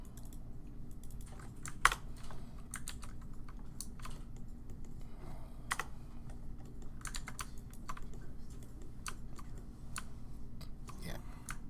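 Soft, steady keystrokes on a computer keyboard tap away continuously, close and quiet, with a few sharper clicks and no talking.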